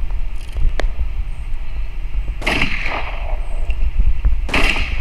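Sniper rifle shots in the video game Snipers vs Thieves, two sharp loud cracks a couple of seconds apart, each with a short noisy tail over low rumbling game background.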